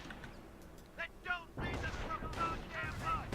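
Machine gun fire in a war strategy video game, starting as scattered shots and then building into a sustained rumbling barrage. The whole thing is faint, and a commentator talks over it.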